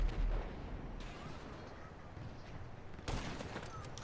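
Grand Theft Auto V gunfire: one sharp shot cracks out near the start, followed by a few fainter pops and a second loud shot about three seconds in, over a dense rumbling game backdrop.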